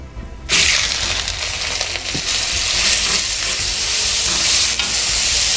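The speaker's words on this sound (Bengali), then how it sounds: "গোটা মশলাগুলো একটু ভাজা ভাজা হয়ে গেলে 300 গ্রাম পেঁয়াজ চপ করে নিয়েছি। এবার পেঁয়াজটা দিয়ে দেব।" Chopped onions, 300 grams, hit hot oil with whole spices and fry loudly, a bright sustained sizzle with scraping stirs after a quiet start, close and without talk.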